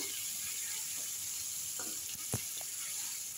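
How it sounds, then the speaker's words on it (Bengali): Prawns fry lightly in hot oil in a wok, giving a steady, close hiss of sizzling with a few soft clicks and knocks from stirring, and no talking. "এই যে চিংড়ি মাছগুলো এখানটায় দেখো একটু ভেজে নেবো, হালকা করে ভাজবো"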